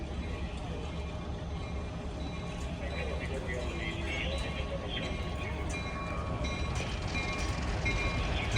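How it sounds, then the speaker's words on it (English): An Alco-built locomotive rolls past at a railfest in Scranton, giving a steady, heavy rumble with faint clanks and rattles as voices murmur nearby. "One of the best locomotives ever built by Alco."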